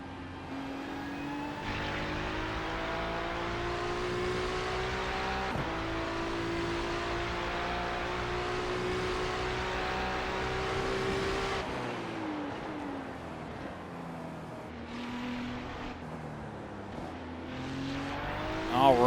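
A race car engine in a racing video game howls at steady high revs while chasing a Porsche, with pitch shifts at each gear change and a drop and climb in tone near the end, loud and continuous with no talk.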